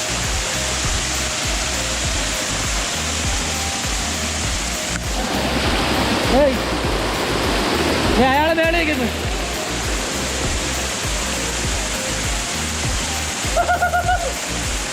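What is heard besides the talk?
forest waterfall in Karnataka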